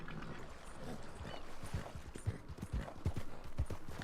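Horse hooves clip-clop in steady rhythm in Red Dead Redemption 2, moderately loud over a soft continuous outdoor ambience, with no talking.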